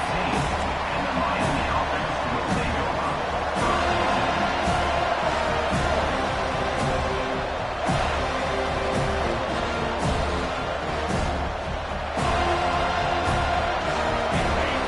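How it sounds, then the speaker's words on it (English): A large video game stadium crowd at a Miami vs FSU college football game in NCAA 25 roars and cheers continuously, loud and sustained, with a commentator talking over the noise. "this crowd is fired up. Listen to this noise here."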